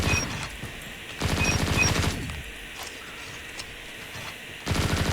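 PPSh-41 submachine gun firing in a ranked Call of Duty match, long rapid automatic bursts separated by quieter gaps, loud and close with game background ambience and no talking.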